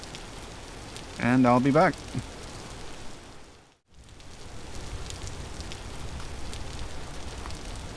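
Steady rain falling at night in the video game Vintage Story, a constant dense hiss that drops out briefly midway and then returns, with a voice speaking briefly over it near the start.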